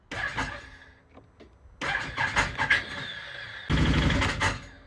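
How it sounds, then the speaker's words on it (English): A Can-Am Defender side-by-side is cranked over and makes a harsh, rough noise on starting. The engine catches, runs unevenly with a few surges, then settles into a loud, steady idle close by. "First up, we got a terrible noise when you go to start this."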